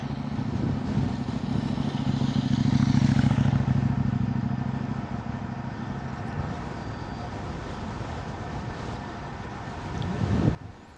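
Wind rushing into the microphone while cycling into a headwind, a steady loud rumbling roar that swells and then eases, with a brief bump near the end.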